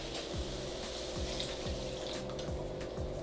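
Water from a tap pours into a pot of canned black beans, a faint steady rushing stream with a low gurgling hum, continuous and quiet with no talk.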